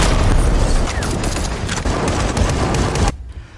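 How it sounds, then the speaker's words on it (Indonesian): A film battle between soldiers and presidential forces around a presidential building brings dense, loud bursts of rapid gunfire and booming blasts, a chaotic barrage that cuts off sharply near the end. "Terjadi kekacauan yang parah sampai gedung presiden meledak dikit."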